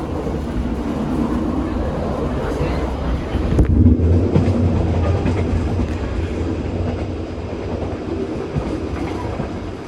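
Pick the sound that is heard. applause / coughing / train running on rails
train running on rails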